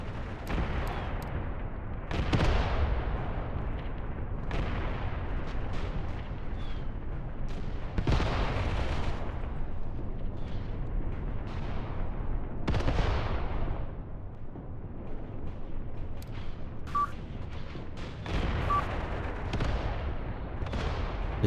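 Artillery fire striking a position in the video game Mius Front, with repeated heavy booming impacts and blasts every few seconds, loud and close, each with a rumbling tail.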